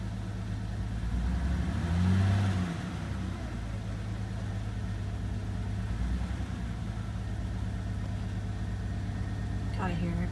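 A car engine runs rough with a misfire, shaking as it idles and briefly revs, a low steady near rumble with a short rise in pitch, while a voice speaks over it.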